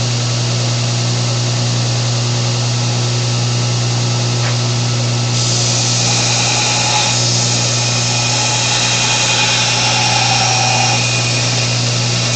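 Electric grinder grinding a metal soapstone holder, a loud steady whine with a constant hum that grows brighter and harsher as the wheel bites the metal, running continuously without talk.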